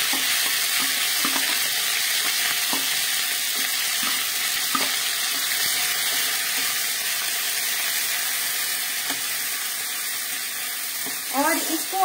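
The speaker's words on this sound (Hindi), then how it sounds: "इसके बाद हम ये जो मटर का पेस्ट हमने बनाकर रखा था ये हम इसमें डालेंगे" Pea paste frying in hot ghee gives a steady, close sizzle throughout, with scattered soft clinks and stirring scrapes and a brief bubbling burst near the end.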